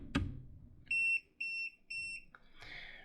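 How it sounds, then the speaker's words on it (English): Three short, high-pitched electronic beeps from a Mustool MT8206 multimeter warning of high voltage, in an even rhythm, close by, after a sharp click, then a brief rustle. "what you heard there is a beep telling me that I'm working with high voltage."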